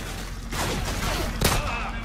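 Gunfire in Call of Duty 4: Modern Warfare on Veteran difficulty, a few pistol shots as sharp bursts over game ambience and music, moderately loud.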